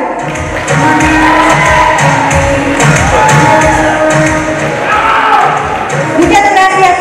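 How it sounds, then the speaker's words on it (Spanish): An audience at a fair queen candidate presentation for the Feria de la Naranja 2023 applauds and cheers loudly, with claps, shouts and crowd noise carrying over a busy background for several seconds. "Que se escuchen los aplausos para Suri Shaday Rosas Cruz"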